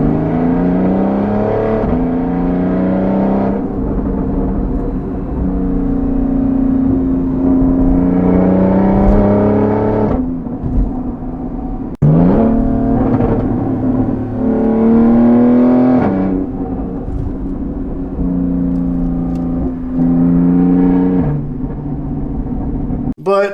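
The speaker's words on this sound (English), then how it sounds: "with a little bit aggressive driving" A Porsche fitted with an exhaust whistle accelerates hard in sport mode, its engine note climbing repeatedly through the gears in loud rising sweeps with a thin whistling tone riding on top, close and continuous.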